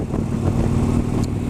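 Air-cooled Harley-Davidson motorcycle engine idling or cruising on a cool day, a steady low rumble that stays loud and even throughout with no voice over it.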